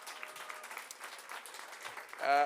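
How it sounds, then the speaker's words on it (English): The audience at a Miss Teen and Miss Namibia pageant applauds the top 20 contestants, a soft, steady patter of clapping before a voice and music come in at the end. "So please, round of applause."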